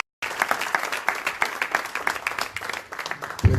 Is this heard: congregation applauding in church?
yes